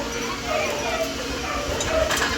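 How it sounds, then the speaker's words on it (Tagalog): A pack of dogs at midday feeding time yelps, whimpers and barks excitedly at a moderate distance, a busy chorus of overlapping yips heard beneath a person talking. "nag-iingayan na yung mga aso doon. Gawa nga po nang nagpapakain na si Fernan ng mga aso"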